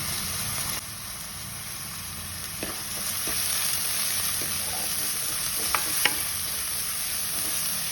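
Ginger dropped into hot oil in a pan for a fish curry sizzles steadily and close by, with a few sharp crackles and stirring scrapes near the end and no talking.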